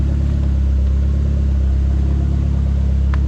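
A Dodge SRT-4 engine with a hanging throttle runs steadily at elevated idle, a loud, constant low rumble with a brief faint click near the end and no talking.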